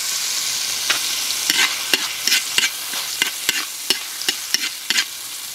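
Garlic frying in star margarine in a pan, a steady bright sizzle with repeated sharp scrapes and clinks of a utensil stirring at an uneven pace, close and clear with no talk.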